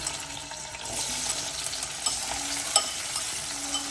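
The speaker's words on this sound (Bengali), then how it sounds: "তেলটা আমার গরম হয়ে গেছে, বেশ খানিকটা পেঁয়াজ কুচি আমি দিয়ে দিচ্ছি এখানে" Chopped onions frying in hot mustard oil with a steady sizzle that rises after the first second, broken by occasional stirring scrapes and crackles.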